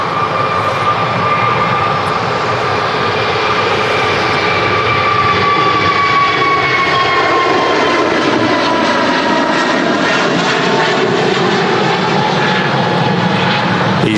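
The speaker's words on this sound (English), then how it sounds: "EasyJet A320 Neo departing there." EasyJet Airbus A320neo jet departing from an airport, a loud, sustained engine roar with a shifting whine as the aircraft climbs away, with no voices.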